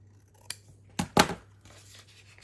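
Scissors snip through paper being trimmed for a handmade notebook, three sharp close cuts, the last two in quick succession, with quiet rustling between them.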